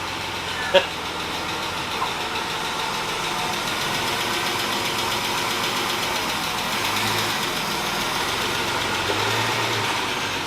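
A BMW E36 engine running steadily at low revs on its first drive after being abandoned, a smooth mid-pitched drone with a brief clunk near the start.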